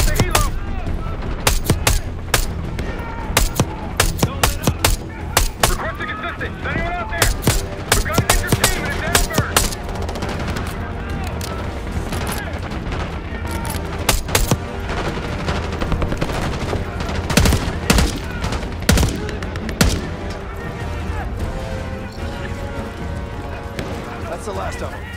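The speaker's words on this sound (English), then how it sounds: "We're taking heavy fire at the helo." Heavy gunfire in the video game Call of Duty: Black Ops 6: dense, loud bursts of automatic fire and scattered single shots crackle throughout, with voices talking over the battle.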